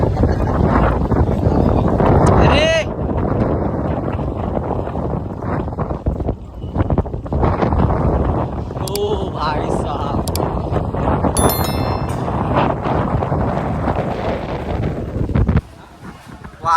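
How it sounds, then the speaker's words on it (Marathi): Strong wind buffets the microphone in heavy, continuous rumbling gusts at Murudeshwar Temple, with faint chimes and brief voices breaking through now and then. "बराच वारा"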